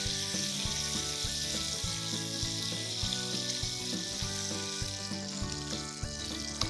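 Steak searing in a hot pan for a steak salad, a steady close sizzle running throughout beneath a rhythmic musical backing.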